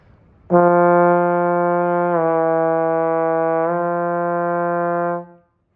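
Trombone gliding through a Remington exercise on F in half notes, one sustained brassy tone that slides smoothly between pitches twice without tonguing, then cuts off, played solo and close.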